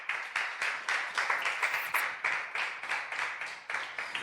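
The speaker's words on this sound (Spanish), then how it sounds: "Denles aplauso al Señor" A church congregation claps steadily in even rhythmic beats, the applause filling the room with a dense, lively patter and no voices over it.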